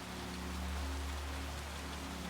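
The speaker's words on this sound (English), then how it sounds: "The shed had a tin roof, and the sound of rain upon it" Rain falls on the tin roof of a garden shed in a steady, even hiss of patter for the whole stretch, with no voices and a faint low hum underneath.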